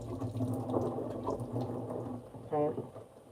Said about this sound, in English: So I'm gonna rinse it off a little bit.